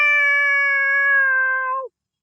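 A child imitates a cat meowing with one long, steady, close vocal cry lasting almost two seconds and then cutting off, with no other sound around it.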